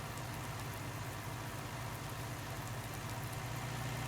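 Tractor engine idling in Farming Simulator 19, a steady low rumble holding even and fairly quiet throughout with no voices.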